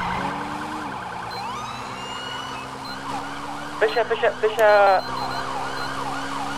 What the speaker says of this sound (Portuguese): a minha sirene bugou lá